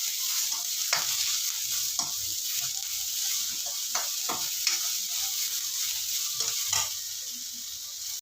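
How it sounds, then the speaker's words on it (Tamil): Onions frying in a pan for Bombay chutney, a continuous bright sizzle with regular scraping taps of a spoon stirring, steady and close over several seconds. "வெங்காயம் வதக்கட்டும்."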